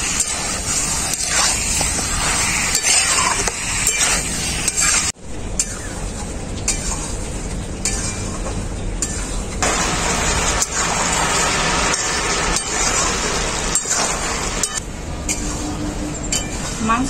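Marinated chicken sizzling and frying in a spice paste in a pan, steady loud spattering hiss with occasional clinks of stirring, nearly continuous throughout.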